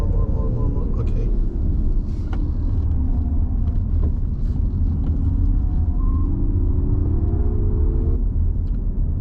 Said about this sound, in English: there was no roaring engine noise, it was replaced by some tyre squeal and some spaceship-like sounds